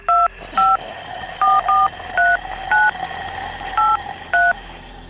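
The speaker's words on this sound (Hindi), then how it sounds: "वहां एक पुराने ज़माने का फ़ोन पड़ा हुआ था। रघु ने नंबर मिलाया।" An old-fashioned telephone gives out a series of eight short electronic dialing tones, evenly spaced beeps as a number is entered, heard clearly against a faint background hiss.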